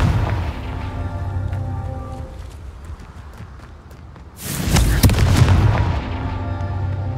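Confringo fire spell cast in Hogwarts Legacy, a single loud fiery blast that bursts out after quieter ambient game sounds and then rumbles and fades over a couple of seconds.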